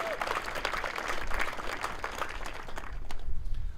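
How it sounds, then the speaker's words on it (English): A crowd claps at the grand opening of a parks and recreation complex in Nolensville, a moderate, even spread of applause that carries on for a few seconds and thins slightly toward the end. "if everybody would give them a round of applause for their great vision"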